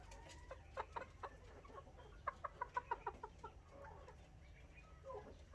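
Roosters cluck in quick, sharp bursts over a low hum of background noise, fairly close and moderately loud.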